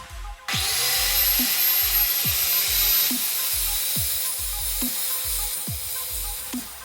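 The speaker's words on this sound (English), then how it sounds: "That's the strength nut removed from one side of the frame." Power tool working a nut off one side of a Raleigh Burner replica unicycle frame, a steady whirring drone with about five short repeated bursts and clicks over roughly six seconds, close and fairly loud.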